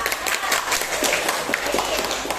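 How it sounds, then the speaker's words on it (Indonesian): A class of schoolchildren applauding together in a morning classroom lesson, a dense, steady patter of many hands clapping close by, with scattered quicker claps standing out. "Oke, aplaus buat kita."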